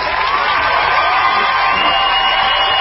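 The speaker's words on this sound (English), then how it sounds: "He needs one more big round of applause." An audience in a studio setting breaks into a loud, continuous burst of cheering and applause, with whoops and shouts blending into a dense, steady roar that holds for the whole stretch.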